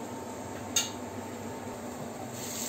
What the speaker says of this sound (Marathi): 2 मिनिटं आपण झाकण ठेवूया